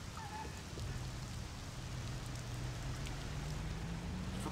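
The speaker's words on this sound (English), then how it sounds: "Frame rate dies as soon as the rain starts" Steady rainfall in the Mafia video game hisses as a dense, even wash of drops on surfaces, with a faint low hum running underneath throughout.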